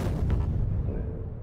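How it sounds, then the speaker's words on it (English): Explosions in the factory-building video game Factorio make a loud, dense, rumbling roar that stays heavy throughout, with no speech over it. "Explosions are really loud."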